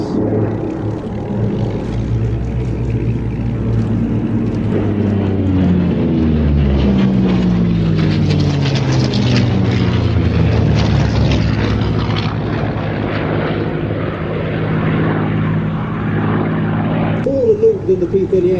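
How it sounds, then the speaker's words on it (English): P-38, P-51 and Corsair warbirds fly a three-ship tail chase at an evening aviation show; propeller engine drone swells and sweeps in pitch as the aircraft pass close by, with a faint voice near the end. "Now we've just gone into a three-ship led by the P-38, followed by the P-51 and the Corsair for a beautiful three-ship tail chase."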